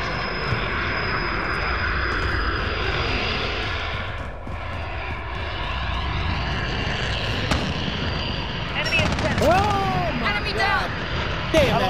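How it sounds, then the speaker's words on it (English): Engine drone of a UAV aircraft overhead in Call of Duty: Modern Warfare, a steady broad roar throughout. Chirpy effects and a voice come in near the end. "Friendly UAV overhead."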